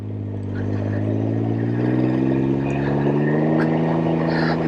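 A Can-Am Ryker Rally three-wheeler's engine idles loudly up close, then its pitch climbs gently as it is given a little throttle, a strong steady drone throughout.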